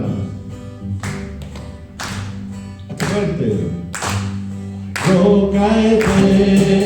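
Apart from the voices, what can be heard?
congregation clapping along to a song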